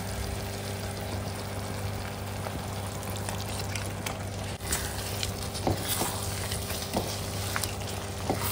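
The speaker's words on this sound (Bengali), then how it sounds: "তো চলুন এরপর দিয়ে দেবো চিকেনটা" Chicken pieces go into lightly fried green coriander masala for a dhaniya chicken curry, raising a steady, close sizzle with scattered scraping and stirring knocks and no talk.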